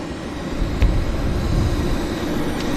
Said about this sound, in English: Okay, so we've got a Westjet taxiing out here.